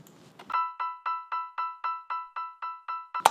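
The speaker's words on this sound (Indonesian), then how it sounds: "Ada bunyi piano." A simple hip hop piano riff repeats one bright chord in an even rhythm, about eleven short stabs at close range, after a brief faint rustle.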